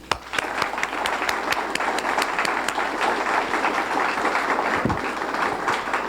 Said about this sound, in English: Again, I'd like to ask you a big round of applause for all the recipients this evening.